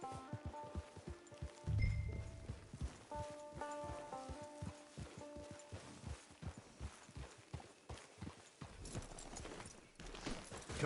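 Horse hooves clip-clop at a walk in the Red Dead Redemption 2 video game, a steady rhythmic clopping alongside soft patter and faint musical tones.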